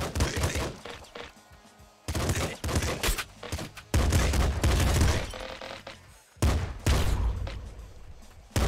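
Double pistols fire in Nuclear Throne as rapid, crackling bursts of gunshots in clustered volleys, loud and dense with short gaps between, under game effects.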